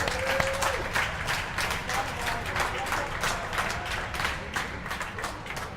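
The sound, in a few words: audience applause at indoor skydiving championship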